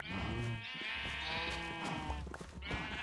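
Sheep bleating inside a Minecraft-style block-building game, several harmonic bleats overlapping in quick succession, loud and close with no voices over them.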